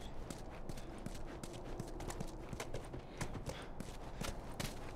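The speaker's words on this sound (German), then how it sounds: "Mit dem Pferdchen." Horse hooves clip-clop in a quick, steady rhythm of sharp knocks in the video game The Last of Us, close but fairly quiet, over a faint ambient background.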